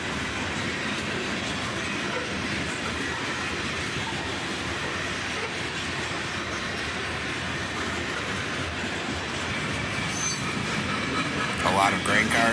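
A long freight train of grain cars and gondolas rolls past at close range, a steady loud roar of wheels and rails with rhythmic clicking joints and a rise in squealing near the end.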